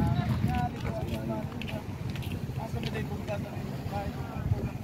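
Strong seaside wind buffets and roars against the microphone, steady and close throughout, with people talking beneath it.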